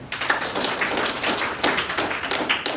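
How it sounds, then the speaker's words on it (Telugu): An audience at a business meeting breaks into brisk, irregular hand clapping that carries on steadily throughout. "ఒకసారి క్లాప్స్ కొట్టడం"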